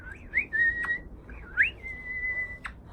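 A person whistles a few short rising-and-falling tones, then held notes, clear and close against a quiet background, with no talk.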